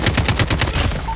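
AK47 automatic fire in Call of Duty Mobile, a rapid steady burst of about ten close, loud shots in even rhythm, standing alone without voices.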